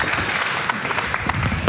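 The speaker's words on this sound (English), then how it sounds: "Yes, you can actually applaud." Audience applause at a roundtable panel on digital women influencers, a dense, steady patter of many hands clapping close by for a couple of seconds, with a few sharper claps near the end.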